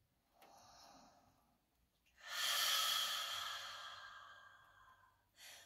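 Deep meditative breathing: a soft inhale followed by a longer, louder, airy exhale like a sigh, close and intimate, with no other sound around it.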